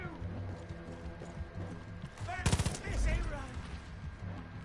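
Enemy gunfire in the shooter Far Cry Arcade: a short, sharp burst of rapid shots lands mid-clip, preceded and followed by galloping hoofbeats and busy game sounds, with a quiet voice now and then.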